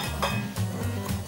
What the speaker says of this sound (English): put the digestive crumbs into the bowl along with the cocoa powder